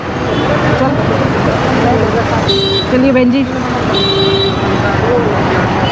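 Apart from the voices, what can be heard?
road traffic of vehicles on narrow road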